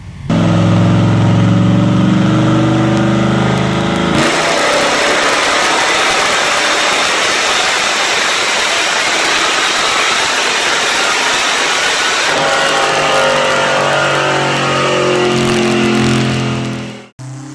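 A Chevrolet 265 cubic inch V8 engine rumbles steadily up close, swelling into a louder, rougher roar for several seconds before settling back to a lower throb.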